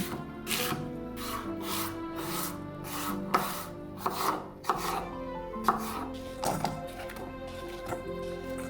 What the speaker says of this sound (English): Start with the apple, slice it thin